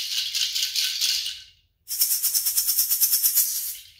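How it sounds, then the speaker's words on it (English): A hand shaker used as percussion in place of a hi-hat, first a sustained swishing rattle, a short pause, then a quick run of evenly spaced rhythmic shakes, close and crisp. "I also have a shaker like this."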